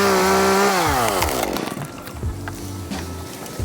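A chainsaw cuts into a tree, opening with a loud, close, high-revving engine whine that bogs down into a lower, rougher chug as the bar sinks into the wood.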